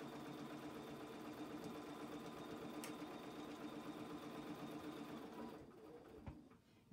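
Steady whirring hum of a sewing machine running a continuous stitch along a seam of a denim and flannel quilt, fairly quiet and close, slowing and stopping near the end.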